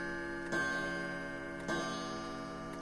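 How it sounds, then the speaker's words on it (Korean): A grandfather clock downstairs strikes midnight in a quiet house. Two deep, resonant chimes ring out about a second apart over a faint, steady background hum. "정적 속에서 아래층의 괴종 시계가 울리는 소리가 들려왔다."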